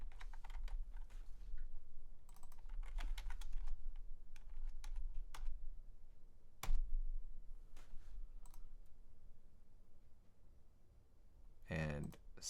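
Keystrokes on a computer keyboard come in irregular bursts of typing while someone codes, with a voice talking at times between the clicks and a louder clatter near the end.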